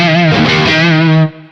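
A loud, distorted electric guitar chord from a Strat rings out through a BT Arkon 50 high-gain amp preset, sustaining for about a second before cutting off abruptly.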